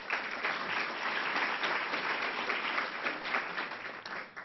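An audience at a Columbus Metropolitan Club forum applauds as panelists are introduced, steady, even clapping from many hands that continues throughout with a slightly muffled, band-limited quality.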